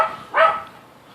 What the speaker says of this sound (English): of course he jumps up and barks and runs away